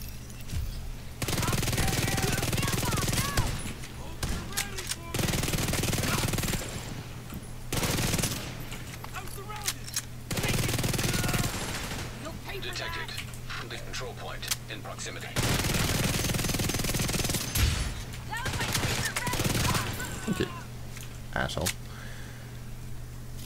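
NPC gunfire in The Division 2: repeated bursts of automatic fire come in blocks several seconds long, separated by short pauses, with speech heard between and under the shooting.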